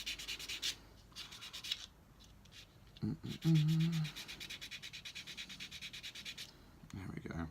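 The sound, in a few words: sanding sponge rubbing plastic model part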